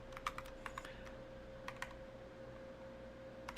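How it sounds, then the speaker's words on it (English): Quiet, irregular keystrokes on a computer keyboard come in short clusters over a faint steady electrical hum, close to the microphone. "I'm going to try and type this"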